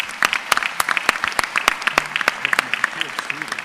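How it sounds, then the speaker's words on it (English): Scattered applause from a small audience at a healing arts panel, with individual sharp claps standing out in an uneven, sparse rhythm that thins toward the end. "Can we applaud to that?"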